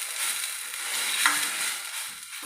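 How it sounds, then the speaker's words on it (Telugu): Masala frying in oil with coconut and a splash of water gives off a soft, steady sizzle with light stirring, faint and close, with no talk. "ఇంకా వేగుతూ ఉందన్నమాట మసాలా."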